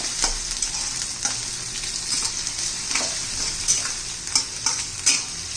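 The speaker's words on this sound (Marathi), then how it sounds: "असं परतून घ्यायचा आहे कांदा आपल्याला" Onion sautéing in a pan for chana masala crackles in a close, steady sizzle, with soft stirring scrapes recurring throughout and no voices.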